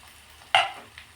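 Soaked val bean seeds tipped into hot spiced tempering oil, giving one short, sharp sizzling splash with a scrape of stirring, then a faint second stir a moment later.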